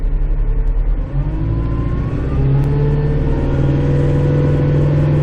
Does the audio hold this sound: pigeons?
no